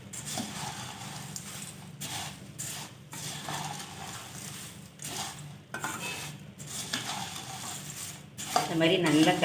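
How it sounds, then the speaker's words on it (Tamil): Roasted puffed rice (pori) tossed with masala in a pan: soft, rhythmic scraping and rustling strokes of a spoon, fairly quiet and close, with brief pauses between stirs. "இந்த மாதிரி நல்லா கிளறி விட்டுக்கணும்"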